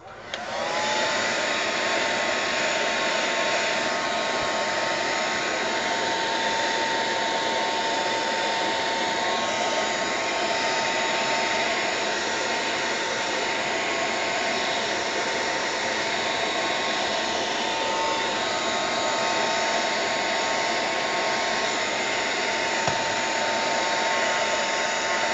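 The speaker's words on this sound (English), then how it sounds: "Let me just hit this all with the dryer." A hair dryer runs steadily for the whole stretch, blowing over a mixed media artwork painted in watercolor and acrylic. Its loud, constant whine and rush of air stay unbroken and close, with no talking.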